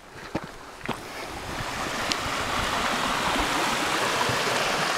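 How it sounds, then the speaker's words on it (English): Water from the hills runs in a stream near Schiehallion in August. A steady rushing wash builds and holds close by, with a couple of light knocks at the start and no talking. "Nice water running off the hills there."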